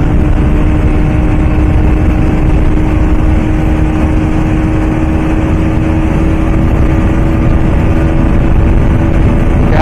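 A 2024 Bajaj Pulsar NS200 motorcycle runs hard at high speed in a drag race against a Yamaha R15M, giving a loud, steady, close engine drone with heavy wind roar and no speech.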